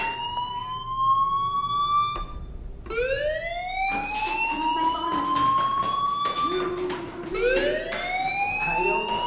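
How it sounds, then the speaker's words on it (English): A wailing fire alarm in the video game Life is Strange sweeps up and falls away in long tones, repeating about every three seconds at a loud, steady level with no talking. "do you hear that fire alarm?"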